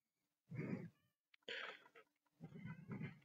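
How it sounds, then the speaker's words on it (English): A cat meows close by, three times, each a drawn-out, wavering cry separated by short pauses. "I hear my cat"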